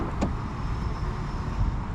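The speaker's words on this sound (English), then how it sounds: "we're gonna press the button on the remote here and we can drop this top down" Convertible top of a 2025 Corvette C8 E-Ray lowering by remote, a steady close electric motor whir with a faint mechanical clunk near the start, no voices.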